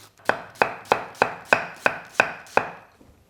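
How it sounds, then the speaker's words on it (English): A knife cuts an onion into rough slices on a board for kimchi stew, making eight even, crisp chops in a steady rhythm close by, with no talking. "Onion, just nice rough slices will do."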